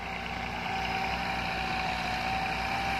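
Massey Ferguson 375 tractor from 1992 with a Perkins engine, hitched to a 13-tine plough, running at a steady idle with a continuous even drone and faint rhythmic knocking, close and alone.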